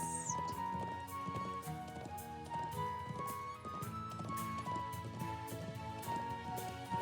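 Horse hooves clop in a steady gallop in the video game Trails of Cold Steel III, a continuous rhythmic patter of hoofbeats under game music and effects.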